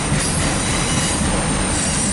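CSX empty autorack freight train passing close by, a loud continuous rumble of rolling wagons with high metallic wheel squeal running throughout.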